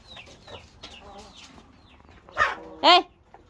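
Hens cluck in a chicken coop, with soft scattered clucks followed by two louder, close squawks near the end.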